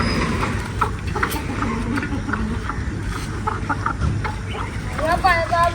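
Hens cluck at a dairy farm in Pakistan, with repeated short clucks close by over a busy background. People talk nearby, and a low rumble runs underneath.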